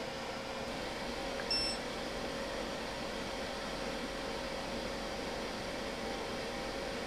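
A forge blower fan runs on a 12-volt power supply in a blacksmith shop, a steady, fairly quiet whirring hum with a faint tonal whine, unchanging throughout.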